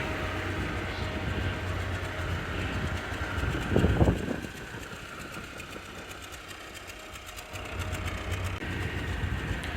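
A 1946 Willys Jeep engine idles with a steady, even mechanical chugging and clatter that continues throughout. A brief louder bump comes near the middle, and nobody talks.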